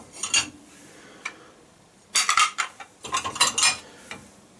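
Clean plates and dishes come out of a dishwasher, producing scattered clinks and ceramic clatter in a few separate bursts against a quiet room.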